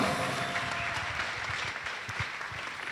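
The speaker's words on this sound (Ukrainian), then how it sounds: "Ваші оплески." Audience applause at a student faculty cabaret evening, a steady wash of clapping from a crowd at moderate distance, fairly even throughout.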